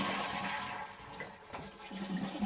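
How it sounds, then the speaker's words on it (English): A toilet in a summer camp latrine flushes with a loud, close rush of water that stays strong for about two and a half seconds. "Flush each toilet."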